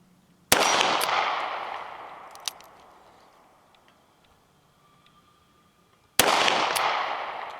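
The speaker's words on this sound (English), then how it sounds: "It's not easy shooting through the camera." A Taurus Ultra-Lite titanium revolver fires two sharp, loud shots several seconds apart, each cracking out and trailing off into a long echoing decay, with a faint click between them.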